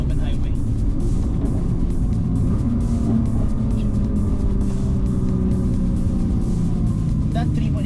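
Nissan GT-R R35 with its 3.8-liter V6 rumbles steadily throughout, a continuous low engine drone with speech running over it.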